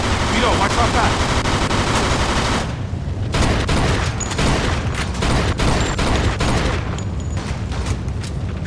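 Sustained, loud gunfire from rapid automatic bursts and overlapping shots in the Mafia II video game, continuous throughout with dense clattering volleys and no spoken voices.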